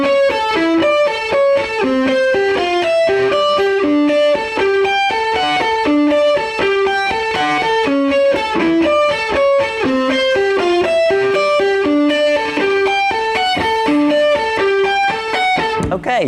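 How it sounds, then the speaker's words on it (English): Lead guitar plays a chorus melody, a steady run of picked notes with distortion and effects, loud and continuous throughout with no voices. "the next thing I want to show you is the lead part that goes over the chorus"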